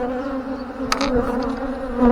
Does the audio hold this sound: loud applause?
no